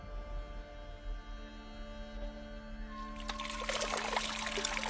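Mountain water pours and trickles near a trail in the Himalayas around Manang, a soft continuous flow that grows brighter and louder toward the end over a steady hum.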